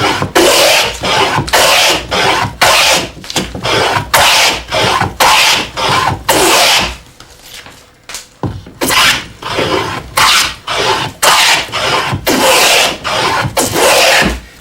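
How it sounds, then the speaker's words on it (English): A hand plane cuts thick wood shavings in rapid repeated strokes, each a loud rasping swish, with a brief quieter pause midway before the strokes resume at a steady rhythm. "These big old thick shavings make a most satisfying sound."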